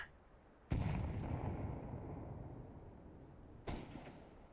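Two heavy grenade blasts go off in a video game, about three seconds apart, each a sharp boom followed by a long, fading rumble.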